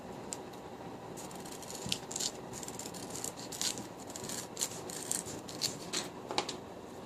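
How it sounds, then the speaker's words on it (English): Scissors cutting strips of Velcro loop tape, giving a series of light, crisp snips and rustles at an irregular rhythm, close up and fairly quiet. "I'm going to cut my loop for this to be about the same size"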